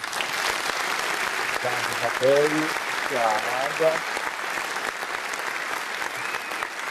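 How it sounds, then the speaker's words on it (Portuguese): Studio audience at a legal talk show claps steadily and loudly, with brief spoken words and cheering voices rising over the applause midway through. "Uma salva de palmas para a Isabelle."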